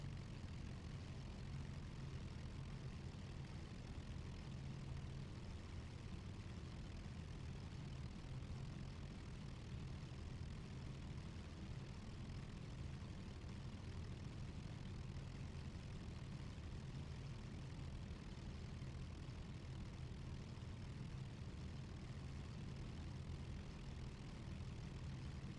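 Piston engines of a Lancaster bomber in a flight simulator game idle and rumble steadily while the aircraft taxis from the stands, a constant low drone with no voices throughout.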